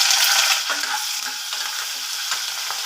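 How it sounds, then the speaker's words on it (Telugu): Broken dried red chillies and curry leaves fry slowly in oil, a loud, close, bright sizzle that swells at the start, then settles into a continuous crackle with a few soft stirring scrapes. "ఇవన్నీ కొంచెం ఫ్రై చేసుకోవచ్చండి. రెండు ఎండు మిరపకాయలు ముక్కలు చేసుకున్నానండి."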